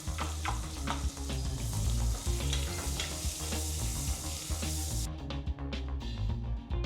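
Onions frying in a pan for a catering-style tomato bath, with continuous close sizzling and scraping stir strokes throughout, loud and steady with no talk.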